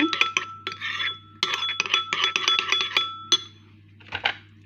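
A metal spoon clinks and scrapes around a dish while stirring sugar and salt, in quick uneven clusters of bright taps with short pauses, close and clear with no talk.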